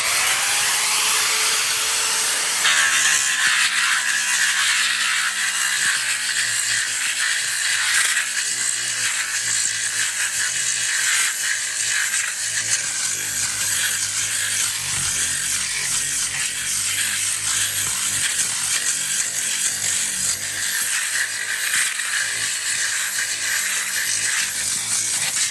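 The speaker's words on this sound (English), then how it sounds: "And so I'm going to start with this heavy grinder here." A heavy grinder whirs loudly and continuously sanding a wooden French door, a harsh high-pitched abrasive roar with no talking.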